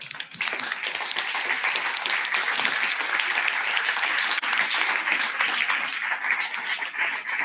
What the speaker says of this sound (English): give yourselves a round of applause for the work you did for this